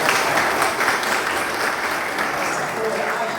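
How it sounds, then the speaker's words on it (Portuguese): Audience applause at a Secular Franciscan Order gathering, a dense, steady wash of clapping filling the whole stretch with no letup, with some voices mixed in underneath. "eu queria uma salva de palmas para vocês"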